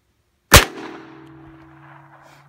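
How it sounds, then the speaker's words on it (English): A single sharp .22 rifle shot fired at a target from about 10 feet, loud and close, with a ringing tail that fades over two seconds. "Let's try to shoot the same spot."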